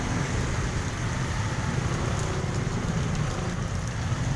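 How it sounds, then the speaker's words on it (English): Heavy rain pours over street traffic in Angeles City, Philippines, a steady dense hiss of rainfall blended with low engine rumble from passing and idling vehicles, loud and continuous without a break. "Wow, there's lots of traffic. And the rain is making it hard, super hard"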